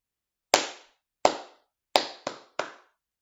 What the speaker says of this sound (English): There were 5 claps altogether. 2 slow claps, 3 fast claps.